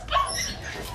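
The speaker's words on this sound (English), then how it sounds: "There's more small dogs here." Small dogs whimpering and yipping in crates at a filthy puppy farm, a short burst of high whines close by over a low background murmur.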